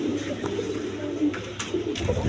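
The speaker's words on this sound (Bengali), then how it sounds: "দেখেন এইখানে অনেক কবুতর রাখছি একসাথে" Many pigeons, colored fancy breeds, coo together in a crowded loft, a throbbing low chorus of overlapping calls with occasional wing flaps and scuffs nearby.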